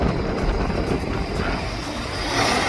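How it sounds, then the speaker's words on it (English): Steady broadband roar of a jet airliner at an airport, an Alaska Airlines plane, continuous and fairly close, with no voices. "an Alaska Airlines plane there."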